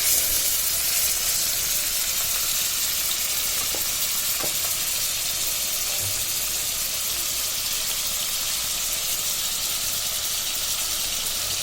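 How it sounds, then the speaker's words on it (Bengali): Turmeric-coated prawns fry in hot oil in a kadai, giving a steady, even sizzle and hiss that runs throughout with a few faint clicks and no voices. "এবার হলুদ মেখে রাখা চিংড়ি মাছগুলো ভেজে ফেলবো আগে।"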